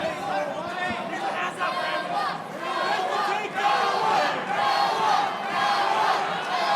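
Loud, dense crowd noise roars continuously through round 3 of a caged MMA fight at Caged Aggression XXXV, with shouts and cheers swelling and dipping as the action unfolds.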